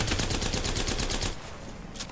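Rapid automatic gunfire in the video game Apex Legends, a fast steady stream of sharp shots for over a second before cutting off, followed by quieter scattered game noise and one last faint shot.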